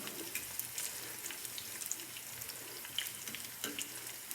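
Eggs frying in a pan over moderate heat give a steady, crackling sizzle with little pops throughout, while a spatula occasionally nudges them loose; close and fairly quiet, with no talking.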